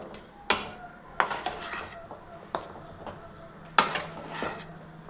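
A rava mixture for gulab jamun is stirred in a pan with a dosa turner, giving several sharp metallic scrapes and knocks against the pan at irregular intervals, close up, with faint background noise between strokes.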